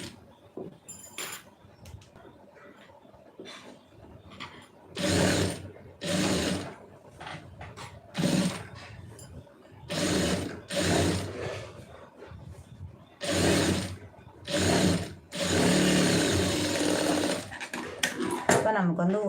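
Domestic sewing machine running a stitch along a turned fabric seam in repeated short bursts of whirring, a few seconds each, fairly close, with pauses between and a longer run near the end.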